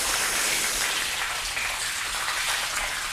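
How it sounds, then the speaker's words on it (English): Steady hiss of water streaming and spattering off waxed car paint, continuous and fairly loud with no voices. "As you can see, that water is just running straight off."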